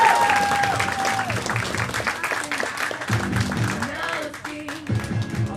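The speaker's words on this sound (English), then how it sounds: "Everyone clap your hands for Greg Bartusiak" Comedy club crowd applauding as a stand-up comedian is introduced at Zanies, loud sustained clapping mixed with cheering and music underneath, continuing throughout.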